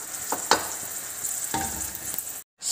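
Raisins fry in ghee in a pan with a continuous soft sizzle, broken by a few sharp crackles and stirring scrapes, then a brief cut to silence near the end.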